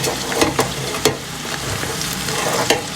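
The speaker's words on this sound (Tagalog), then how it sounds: "Ayan, gisa-gisa lang natin." Cabbage is sautéed in a hot pan, giving a constant close frying hiss. A few sharp scrapes from stirring punctuate it at irregular intervals.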